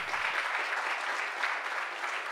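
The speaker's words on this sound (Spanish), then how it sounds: "quiero que le demos un aplauso de bienvenida" Steady applause from an indoor audience at a church conference, welcoming a guest speaker; dense, continuous clapping of moderate loudness without pause.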